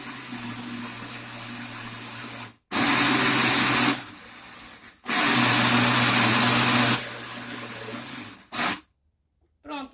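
Blender liquidizing cooked guava with added water, two loud sustained whirring bursts with a pause between, then short final pulses before stopping, with no talk.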